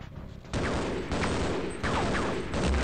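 Gunfire in Half-Life, loud and close, with three sharp blasts about half a second to a second apart, each followed by a sustained rumbling echo.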